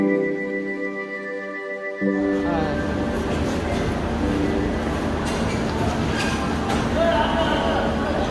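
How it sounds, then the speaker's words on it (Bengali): Passenger train pulling into a station in Kolkata: a low rumble and clatter of wheels sweeps in after a few quiet seconds, near and loud, with a voice talking over the approach. "তো বন্ধুরা, এই হচ্ছে আমাদের ট্রেন চলে এসছে।"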